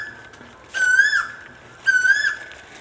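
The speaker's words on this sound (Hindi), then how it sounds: "देखिए कोयल का संगीत सुनाई पड़ रहा है आप लोग को" An Asian koel sings in a garden at dawn: two loud, clear whistled calls, each rising and swelling, about a second apart, with faint background hiss between them and no talking.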